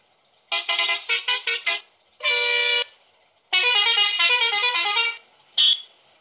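Vehicle horns in a Kerala traffic mod for a video game: a quick run of short toots, then one long blast, a longer sustained honk and a final short beep, loud and clear with no other sound.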